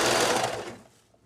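A serger sewing machine runs with a close, steady mechanical whir and then slows to a stop within about a second, fading into quiet.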